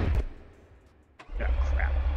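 Twin-turbo SN95 Mustang engine starting in BeamNG Drive: a brief crank, a short pause, then the engine catches and settles into a loud, steady idle, with someone talking over the start.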